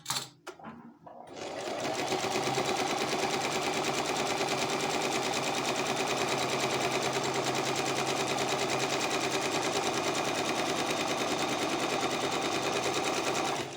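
A home sewing machine fitted with a hemming foot runs in one long steady burst of fast, even stitching, close and loud throughout after a brief start.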